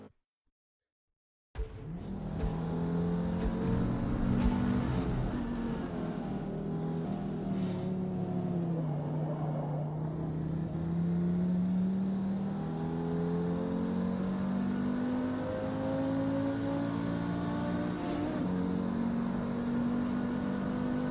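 A stock car engine in the Forza Motorsport racing game roars loud and close after a short silence, its pitch climbing and dropping through sustained revs and gear changes, with no voices over it.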